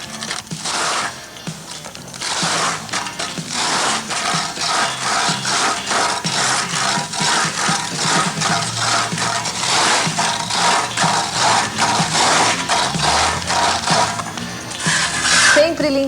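A trowel scrapes and rubs textured plaster across a house wall, giving a continuous gritty rasping in steady strokes, close and fairly loud, with a few short pauses.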